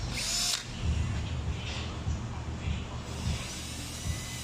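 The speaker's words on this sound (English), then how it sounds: "I guess I got to drill slower." A power drill with a bent bit whirs steadily and loudly throughout, its pitch dipping in brief pulses as it bites into material.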